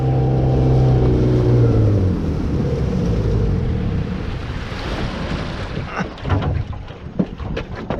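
Small motor boat heading out across a lake or river to check fishing set-lines, its engine drone strong at first then easing. Water splash and wind buffeting the microphone build toward the end, with no talking.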